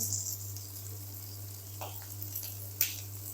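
Chopped onion and capsicum sizzle gently in a pan, a steady low frying hiss with a few faint stirring scrapes and no talking.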